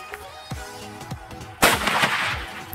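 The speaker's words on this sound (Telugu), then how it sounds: "వీడిని చూడండి, సుట్లీ బాంబు కి గుడ్లు పెడుతున్నాడు." A sutli bomb firecracker with eggs set on it bursts with one sharp, loud bang, followed by a crackling, rumbling tail. A few faint thumps come before the blast.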